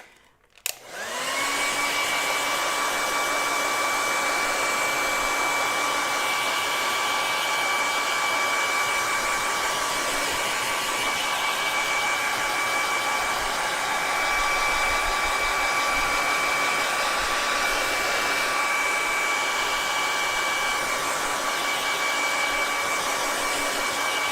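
A hair dryer blows on acrylic paint, switching on with a click and then running at a steady, loud, close whine and rush of air without letup.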